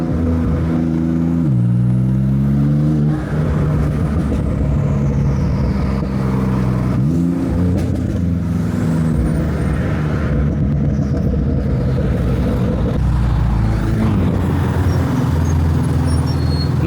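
A tuned Porsche 992 Turbo S of about 800 horsepower, with tuned exhaust, downpipe and catless tune, revs hard and loud, its engine pitch climbing and dropping in repeated surges throughout.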